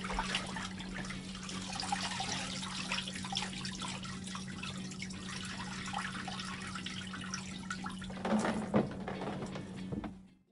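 Soaked vintage denim jeans are lifted out of a tub of water, with trickling and dripping water running off the fabric over a low steady hum, then a brief louder splash near the end.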